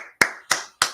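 Three crisp, close hand claps in a slow, even rhythm, each one sharp and separate with short silences between.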